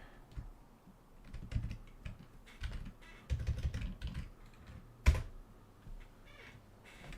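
Someone types on a computer keyboard during a Linux privilege-escalation exercise. The clicks come in quick irregular bursts with short pauses, soft and close, with no talking.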